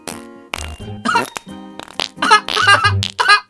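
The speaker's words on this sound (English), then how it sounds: "Edit a butt on screen, play a fart sound." A cartoonish fart sound effect plays as an edit insert, with wet, buzzing blurts in several bursts that are loud and close, and short vocal bits mixed in.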